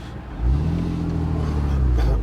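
A Porsche 987 Boxster with a 2.7-litre engine and 5-speed manual revs up, its steady, loud low-pitched drone swelling after a brief quiet start and holding close by.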